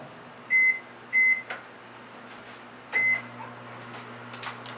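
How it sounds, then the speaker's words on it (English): A kitchen microwave oven, set to melt butter, gives three sharp electronic beeps, two close together and one after a pause, over a faint steady hum and a few light clicks. "I'm going to put it in the microwave just until the butter melts."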